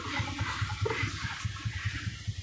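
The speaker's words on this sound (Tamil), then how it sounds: "இந்த இடத்துல தண்ணி போயிட்டுருக்குது" Rainwater runs across a dirt road in a forest near Coimbatore, a steady close rushing with a faint low rhythmic throb underneath.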